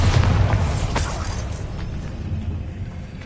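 A Bombardus spell blast in Hogwarts Legacy, a deep booming explosion with a heavy low rumble that hits at the start and slowly decays across the clip, with no voices.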